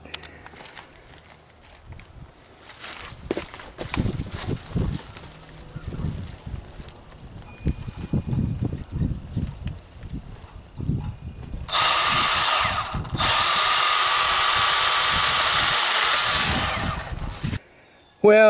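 A Milwaukee M12 Hatchet 6-inch cordless pruning saw cuts through a branch. Quieter handling noises and faint talk come first, then the saw breaks into a loud, steady, harsh buzz for several seconds before cutting off.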